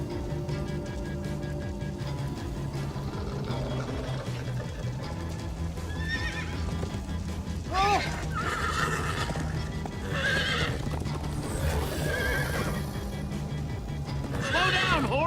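Hooves clop at a steady gallop while a horse whinnies several times, set against a busy, layered background of Minecraft Story Mode game sounds.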